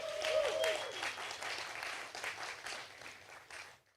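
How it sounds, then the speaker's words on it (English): An audience applauds with sustained clapping that gradually fades out, a few faint voices mixed in. "Let's give her a round of applause."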